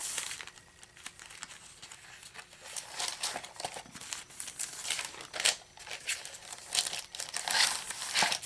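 Sheets of parchment paper being handled between painted journal pages give off a steady run of close crinkles and rustles, swelling into louder bursts of crumpling and soft tearing-like scrapes, with no talk.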